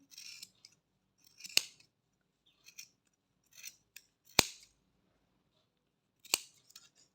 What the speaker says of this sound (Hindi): कैंची से आपने दोनों साइडें काट लेनी है ऐसे।